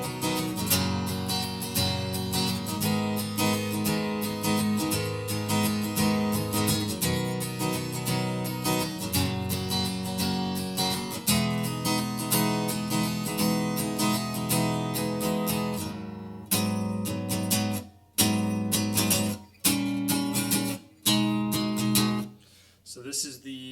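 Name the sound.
guitar playing chorus of a song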